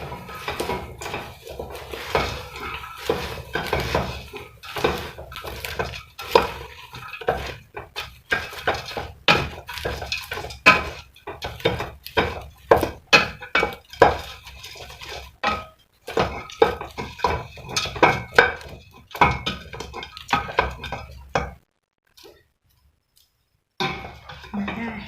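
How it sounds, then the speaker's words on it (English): Caramel popcorn stirred in a pot at home: repeated scraping and knocking of a utensil against the metal, irregular and close, with talking at times and a short silence near the end. "And then we are going to stir."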